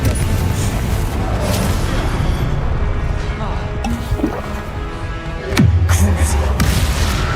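Confringo spell blasts go off in Hogwarts Legacy gameplay, with booming bangs and thuds under a game soundtrack, while a voice shouts spell names over the combat.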